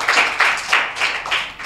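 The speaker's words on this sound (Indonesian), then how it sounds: "Tepuk tangan dulu," Audience clapping at a school event about a vocational arts high school in Surakarta, heard as a few rhythmic bursts of hand claps, fairly close and moderately loud, with no talking.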